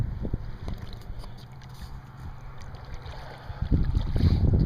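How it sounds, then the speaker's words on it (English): Steady wind buffeting the microphone at night by the water at Fort De Soto Park in Florida, a rough rumbling roar that swells toward the end. "It's a little windy."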